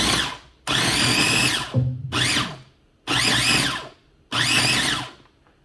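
An electric chopper whirs in short, loud bursts as it chops chipotle pepper with tomatoes and tomatillos, about five high-pitched motor pulses separated by brief pauses.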